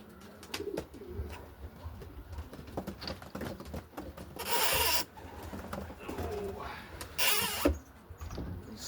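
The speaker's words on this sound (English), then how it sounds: "These smoky blues are quite nice pigeons too." Smoky blue racing pigeons in a loft give soft, low cooing amid wing flutters and light shuffling, with two bursts of louder rushing noise and a little background speech.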